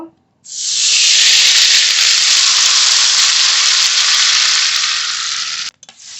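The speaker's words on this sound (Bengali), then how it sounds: "এবার পনির ভেজে নেব কড়াইতে সাদা তেল দেব" Paneer frying in hot white oil in a kadai over a stove, giving a loud, steady sizzle and hiss that starts abruptly and holds for several seconds before cutting off, with no talking.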